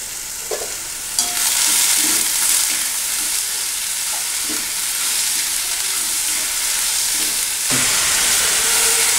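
Chopped onions and green chillies frying in a pan for Kerala-style egg roast, a loud continuous hissing sizzle that swells as the ingredients hit the hot oil, with faint stirring knocks underneath.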